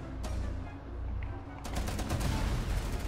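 Rapid gunfire in Rainbow Six Siege, a steady bed of battle noise breaking into a burst of sharp, closely spaced shots in the last half, with a voice faintly beneath.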